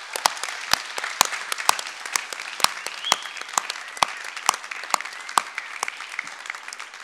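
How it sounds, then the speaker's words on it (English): Steady applause fills a school board meeting room, with many sharp individual claps standing out over a dense bed of clapping from the audience, moderately loud and continuous. "let's give them a round of applause one more time"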